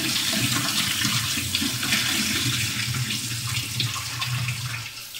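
Tap water pours steadily into a pot for rinsing salad, a continuous close splashing rush with no talk.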